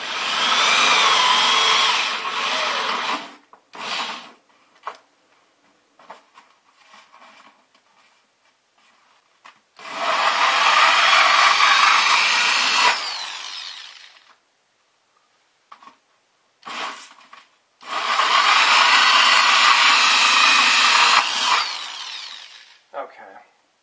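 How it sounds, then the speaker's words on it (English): A power drill bores through a plastic bucket liner in three long bursts of steady high whine, loud and close, separated by quiet gaps with brief handling knocks. "now I'm going to drill through the liner"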